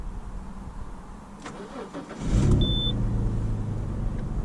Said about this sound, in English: So let me start the car.